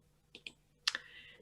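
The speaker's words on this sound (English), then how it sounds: "you are typing in an ID number" A few quiet keyboard key clicks on a computer while entering an ID number on a vaccine registration page: two separate taps, then a brighter cluster of keystrokes, with no talk.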